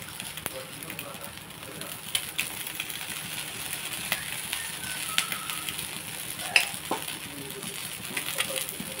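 Egg and ragi uttapam sizzle and crackle steadily on a hot pan, with scattered sharp clinks and scrapes from turning them over, close and continuous throughout.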